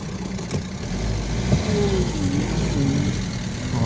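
A Ford Mondeo Mk3 with a 2.0 TDI diesel engine runs close by, a steady mid-pitched drone with a faint rising whine like turbo spool across a few seconds, with no voices.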